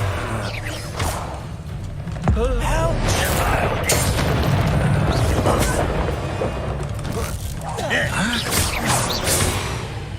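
Spell blasts in Hogwarts Legacy combat: loud booming impacts, cracks and whooshing magical bursts in quick succession, with voices calling out over the fight.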